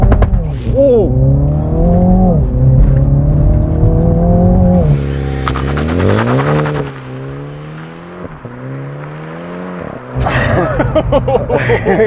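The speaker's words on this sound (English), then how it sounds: "'21 Mini John Cooper Works. GP with launch control." A 2021 Mini John Cooper Works GP launching under launch control, engine note rising and falling loudly through gears with whirring and a brief squeal, mixed with excited voices.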